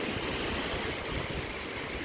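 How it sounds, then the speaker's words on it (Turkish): Sea surf rolling onto Side public beach in Antalya in the evening, when the water is a little choppy; a steady, continuous wash of waves close by with no voices. "Şu anda akşam üzeri olduğu için biraz dalgalı"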